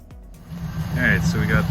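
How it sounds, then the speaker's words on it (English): A 1998-2002 fourth-generation Pontiac Firebird Trans Am is pulled out, its engine a low, steady rumble that builds slightly toward the end while someone speaks over it. "we will pull the car out and see how it looks"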